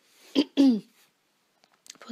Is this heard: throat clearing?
yes